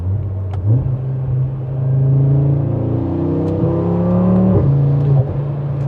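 An 8Y Audi RS3 fitted with an ECS exhaust accelerates through the gears, a loud, close, deep engine drone rising in pitch, with brief dips at each shift.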